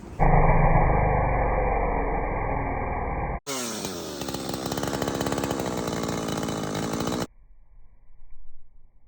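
A Husqvarna 372 chainsaw with its stock muffler roars loudly and close, first at a high steady rev, then cutting into a log with a rougher, heavier snarl before cutting off abruptly to near silence.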